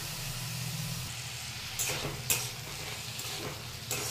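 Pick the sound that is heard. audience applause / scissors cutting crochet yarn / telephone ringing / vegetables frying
vegetables frying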